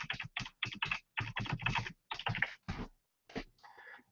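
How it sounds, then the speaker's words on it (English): Keys clatter on a computer keyboard as a URL is typed, quick close clicks in short bursts with brief gaps, alone and fairly faint. "So I'm just going to type that in here."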